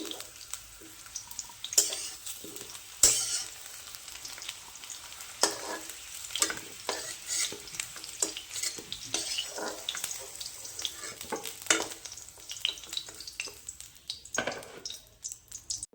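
Potato pieces fry in a pan of oil in a village kitchen, a steady crackling sizzle broken by occasional scraping stirs and clinks, close and moderately loud with no talking.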